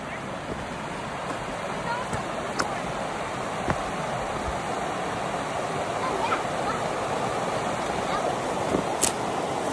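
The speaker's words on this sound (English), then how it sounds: "There's literally ice on the trees by the creek where the water splashes up on them." A cold winter creek, water rushing and splashing steadily and loudly nearby, a continuous broadband wash with occasional sharper splashes.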